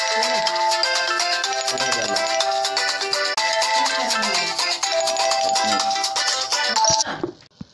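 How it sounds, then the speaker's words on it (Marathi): A phone ringtone plays a repeating electronic melody during a Bhagavat Katha discourse, loud and continuous, then cuts off abruptly near the end. "कोणाचा तरी फोन आल्यामुळे डिस्टर्ब झाला"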